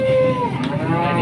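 A giant raging Pegon bull lets out a long, loud moo close by, a drawn-out bellow with a steady tone that fades into breathy rumble within about a second.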